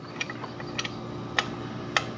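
Bolts on the oil filter cover of a 2022 Husqvarna FC350 dirt bike being tightened by hand tool, giving a few sharp, close ratchet-like clicks spaced out over steady low background hum.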